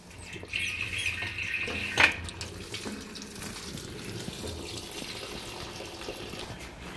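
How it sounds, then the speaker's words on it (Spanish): Water runs into a washing machine during a home laundry routine, a steady rushing stream that is strongest early on, then settles into a quieter continuous wash of sound with no talking. "Le voy a poner el agua."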